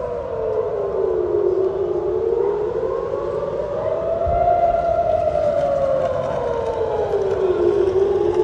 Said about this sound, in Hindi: इजराइल में सायरन की वजह से भगदड़ मच गई।